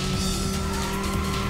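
Tires screech in a skid during a car race in the PlayStation video game Racing Lagoon, a steady loud engine drone running under the squeal for the whole moment, with no clear crash impact standing out.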